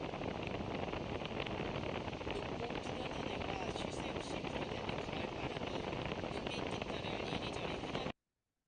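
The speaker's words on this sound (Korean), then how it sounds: "바람 소리에 말 소리가 완전히 묻혀버린 걸 들으실 수 있었어요" Heavy wind buffets a hearing aid microphone outdoors on an autumn day, a loud constant rushing roar that buries a voice speaking underneath, then cuts off abruptly at the end.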